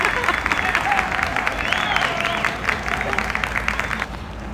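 Applause sound effect laid into a film edit: steady, dense clapping from a crowd running continuously at moderate level, with faint murmur mixed in.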